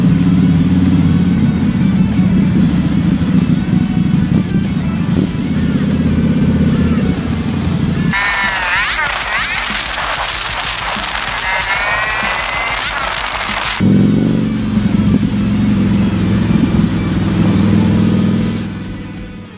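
Indian Sport Chief and Scout 101 motorcycles on a test ride, loud throaty engine rumble with wind roar, shifting to a rushing higher-pitched stretch mid-ride before the deep rumble returns.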